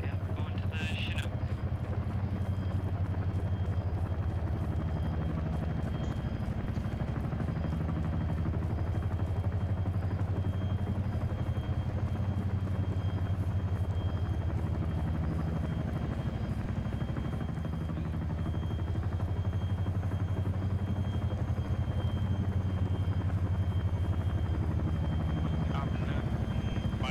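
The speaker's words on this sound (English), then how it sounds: "we're going to the Chinook" Chinook helicopter in a military video game, a loud, steady rotor thump and engine drone filling the whole stretch, close and continuous, with voices talking over it.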